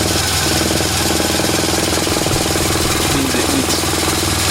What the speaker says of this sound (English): the engine's idling a certain way